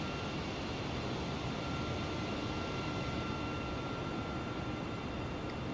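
Steady, even roar of an Airbus A320 airliner in Microsoft Flight Simulator on Xbox Series X, a continuous broadband engine and air rush holding constant throughout with a faint thin tone above it, no voices.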